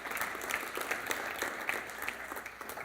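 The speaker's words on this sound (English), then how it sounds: "Big round of applause for Dan" An audience at a craft beer industry session in Chicago applauds a speaker coming up, a steady dense patter of many hands clapping at moderate distance throughout.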